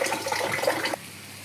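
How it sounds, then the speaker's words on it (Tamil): Water poured into a pan of spiced curry with chili powder, turmeric and salt, a loud rushing splash for about a second that stops abruptly, and no talking. "அப்புறமா தண்ணி கொஞ்சம் ஊற்றிக்கலாம்."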